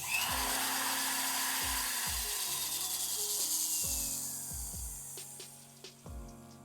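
A foot-pedal flex-shaft rotary tool spins against a tobacco pipe, a steady high whine with repeated low bursts as the speed is cranked and eased, tapering quieter near the end.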